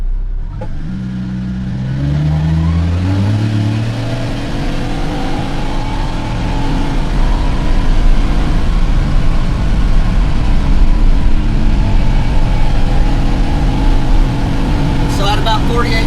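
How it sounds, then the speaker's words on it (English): A CFMOTO U10 UTV runs down a road in high gear, its mid-pitched engine droning steadily and gradually building in speed, heard from inside the cab with a loud constant hum throughout. "Swap it to high gear, and we're going to make a run down the road."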